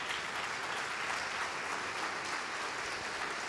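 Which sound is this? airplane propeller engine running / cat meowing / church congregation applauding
church congregation applauding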